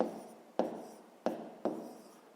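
Pen writing an answer by hand on paper: three sharp taps followed by scratchy strokes, quiet and close, with no voices.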